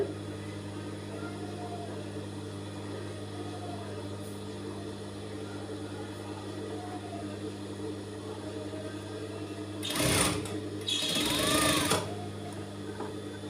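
Sewing machine stitching a handkerchief, a soft, steady low whir under gentle pedal pressure, with two short louder bursts of stitching near the end.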